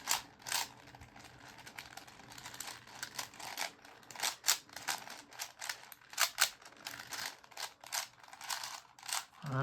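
A 5x5 Rubik's cube is scrambled by hand, its plastic layers producing rapid uneven clicks and snaps in irregular bursts, close and fairly quiet.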